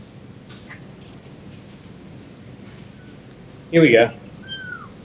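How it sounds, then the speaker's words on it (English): A kitten gives a single short, fairly loud meow, followed by a fainter high chirp, over a quiet indoor background with people talking. "Is that one of the kittens?"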